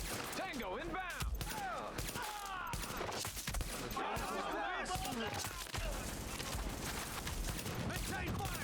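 Sustained gunfire rattles through a firefight in Tom Clancy's The Division, a continuous barrage of shots mixed with shouted combat voices and clattering impacts, loud and chaotic throughout.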